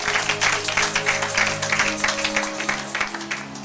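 A church congregation claps and cheers during worship, a dense steady wash of applause mixed with voices and a sustained musical tone underneath.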